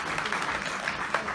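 Audience clapping at a Jatra Pala theatre event, a brief, even burst of many hands applauding at steady volume.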